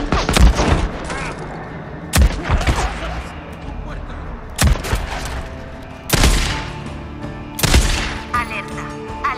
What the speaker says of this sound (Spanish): Ha habido varios disparos.